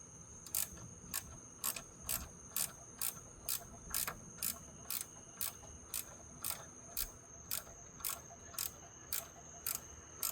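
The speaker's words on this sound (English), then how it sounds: "Tighten this one up a little bit more." A ratcheting wrench tightening a bolt on a trailer floor, a close, fairly faint series of about seventeen evenly spaced sharp clicks, each one a stroke of the handle, with no talking.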